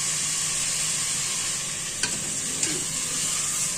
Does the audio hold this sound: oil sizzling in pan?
yes